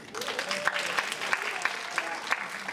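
A summit audience applauding with steady, dense clapping from a crowd that fills the room and carries evenly throughout, with a voice faintly heard over it.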